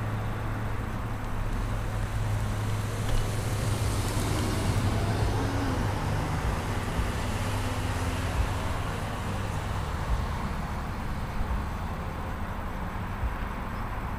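Car rolling up to a traffic signal at a Huntersville or Charlotte, North Carolina intersection, with a steady low road rumble and traffic hum building slightly midway, then easing off, with no talk over it.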